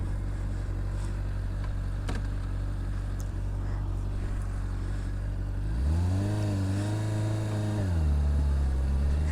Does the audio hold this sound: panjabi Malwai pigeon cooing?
no